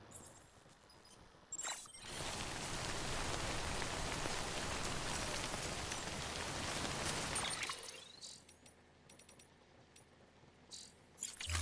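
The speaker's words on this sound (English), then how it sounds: "We need to get out of this rain." Heavy rain in the video game Death Stranding pours down in a dense, steady hiss for several seconds, then cuts off abruptly, leaving quieter ambient sounds and occasional soft clicks.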